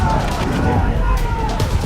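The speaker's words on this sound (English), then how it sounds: "In the face of blistering American cannon and musket fire, all British attempts fail as the light disappears." A battle sound effect of American cannon and musket fire in a Revolutionary War battle: a dense, continuous barrage of rumbling booms and crackling shots at steady volume, with no clear gaps between them.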